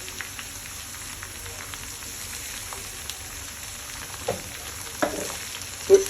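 Vegetables for a five-vegetable shukto fry with turmeric and salt in a pan, giving a faint, continuous crackling sizzle, with a few soft stirring clinks toward the end and no voices.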